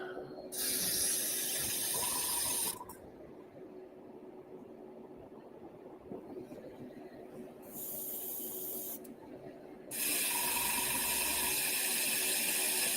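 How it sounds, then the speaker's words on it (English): Water runs from a tap at a modelling bench where airbrush thinner is being mixed, a steady loud hiss in two long bursts with a quieter gap between them and no talk. "running some water."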